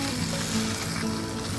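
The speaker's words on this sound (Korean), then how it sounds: "불 켜시고 연어 배꼽살 바로 올립니다." Salmon belly pieces fry in a hot pan without added oil, the fat rendering out around them in a steady, dense sizzle that stays close and loud for the whole stretch, with no voices.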